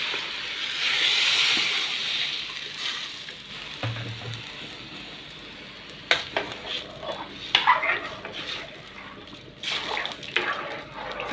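Rice browning in oil in a pot, stirred a couple of times before water goes in, with steady sizzling, scraping spoon strokes and a few clinks of utensil on metal, close and fairly loud, no talking.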